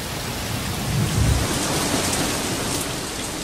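Heavy rain pours steadily while a low rumble of thunder rolls through early on, loud and enveloping.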